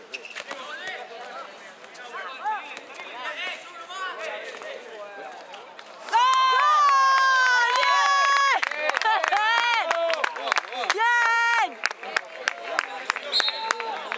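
Applause and cheering from spectators at a youth cadet basketball game in a gym, with sneakers squeaking loudly on the court, ball bounces and a steady crowd murmur; the clapping swells in bursts over the noise of play.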